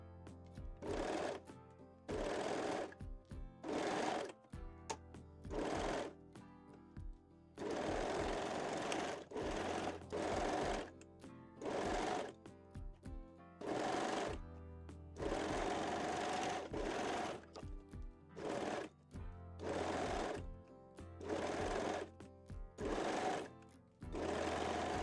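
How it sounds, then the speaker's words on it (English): Sewing machine stitching darts on a bralette, running in short, even bursts of rapid mechanical whirring separated by brief stops, close and clear with no talk. "Then sew the darts."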